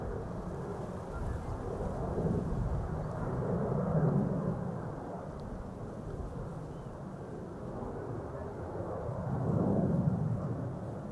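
KLM jet airliner taxiing at Amsterdam Schiphol Airport on departure to Paramaribo, a steady low, distant engine rumble that swells and fades slightly, with no talk.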